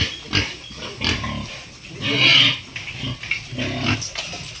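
A Duroc boar pig grunts and snorts close by in repeated rough, uneven bursts, with one longer drawn-out squealing grunt in the middle.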